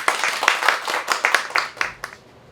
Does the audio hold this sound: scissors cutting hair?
no